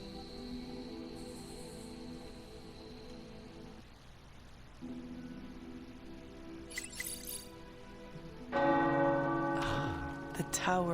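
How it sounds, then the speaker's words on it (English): Tower bells ringing in the Midnight Suns video game, bright metallic peals that swell in near the end over a steady game ambience with chirping insect-like background tones. "The tower bells are ringing."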